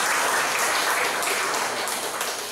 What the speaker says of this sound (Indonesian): Jadi tepuk tangan untuk mahasiswa.